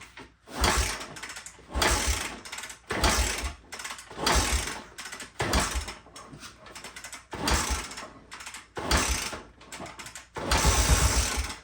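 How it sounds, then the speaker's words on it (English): 1974 Honda motorcycle being kicked over, a series of about seven rhythmic mechanical ratcheting bursts, each a short clattering churn with brief gaps between. "Oh yeah, we got a little kick over."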